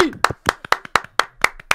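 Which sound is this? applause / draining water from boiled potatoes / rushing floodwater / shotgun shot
applause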